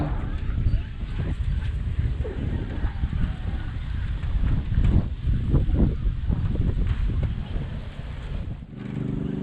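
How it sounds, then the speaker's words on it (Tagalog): Gusty wind by a river buffets the microphone in low, rumbling bursts, with a few voices and faint honking sounds in the background. "Lakas ng hangin."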